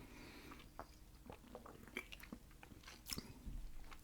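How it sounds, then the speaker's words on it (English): Close-up crunchy bites and moist chewing of KFC fried chicken, with irregular crisp crackles and soft mouth sounds following one another in steady succession, with no talking. "I'll try and chew extra loud."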